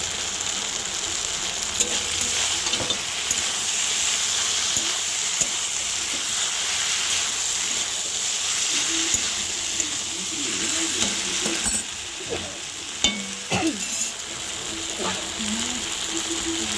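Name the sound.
stirring and frying taro stolons with prawns in oil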